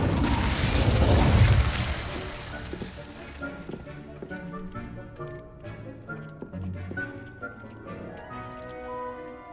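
The Incendio fire spell bursts in Hogwarts Legacy with a loud fiery whoosh in the first two seconds that fades into softer game sound, with voices afterward.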